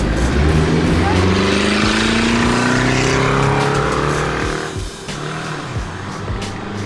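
Cars passing on a city street in St. Pete, Florida, one with a loud, raspy exhaust roaring close by and fading as it pulls away, a quieter engine hum continuing after.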